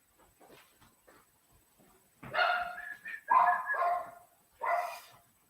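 A dog barks in short loud bursts at a house, a few sharp barks separated by pauses after some quieter yips and whimpers, with no talk.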